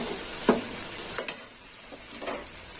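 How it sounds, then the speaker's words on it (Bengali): Green chili paste and turmeric stirred in hot oil sizzle steadily with a thin high hiss, broken by a few soft spoon scrapes and light clinks against the pan. "এবার একটু হলুদ একটু তেলের মধ্যে ভালো করে নাড়িয়ে চালিয়ে নিই"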